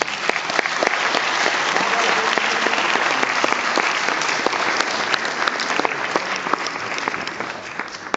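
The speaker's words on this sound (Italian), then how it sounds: "é stasera è qua con noi anche Vandana Shiva, che prego di salutare con un applauso." A large audience applauds warmly at a film screening to welcome a guest, a steady, dense wash of clapping that stays loud and even throughout with no talk over it.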